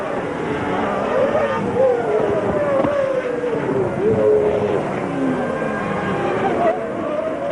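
Formula One race cars at the 1992 Australian Grand Prix, engines droning steadily with pitch sweeps as cars pass, a continuous loud roar throughout with crowd or commentary noise blended underneath.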